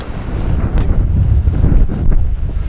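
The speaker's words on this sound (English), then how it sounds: "Wind starts gusting." Strong wind gusts through a Scottish glen near Inchnadamph as showers pass, a loud, close, buffeting roar that rises and falls against the microphone, with no speech.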